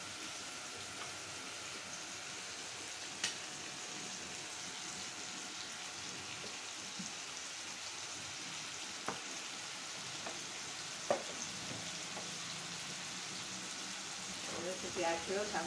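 Salted squid frying with soy sauce in a pan, giving a steady, fairly quiet sizzle throughout with a few light clicks of stirring and a voice talking over it.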